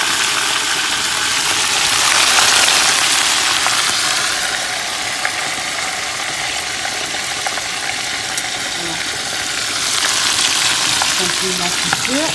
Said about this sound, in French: Et continuer ma friture.